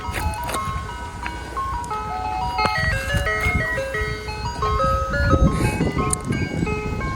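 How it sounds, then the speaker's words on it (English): An ice cream truck arriving, its tinkling electronic jingle melody playing loudly over a rumbling engine and street noise as the vehicle draws near. "ice cream truck is coming."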